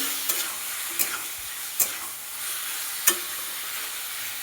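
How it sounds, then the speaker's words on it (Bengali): Potato and papaya sauté with spices in a pan under a constant close sizzle, broken by about five sharp scraping strokes of a stirring spoon, with no voices. "এই আলু পেঁপেকেও 2 মিনিট 3 মিনিট ধরে ভালো করে এরকম কষাতে থাকবো।"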